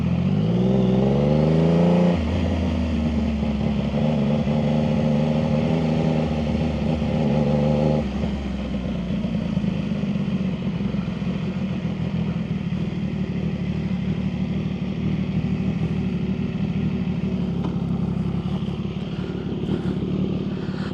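A Triumph 675 motorcycle with a full IXIL exhaust revs up loud and close, its pitch climbing sharply, then settles into a deep, steady rumble that holds with slight variations.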